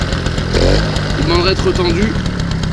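Two-stroke engine of a Peugeot 103 Vogue moped with electronic ignition and no variator, running steadily and then taking some throttle as its pitch rises, close by, under continuous French speech.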